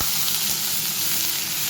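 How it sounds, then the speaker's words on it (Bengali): Beetroot frying in a pan: a loud, dense, unbroken sizzle close up, with no speech. "বিটটা একটু সময় লাগবে ভাজা হতে।"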